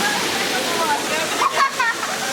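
Tulaan Falls waterfall rushes as a steady, broad roar filling the background, with a few brief voices and splashy sounds breaking through near the end.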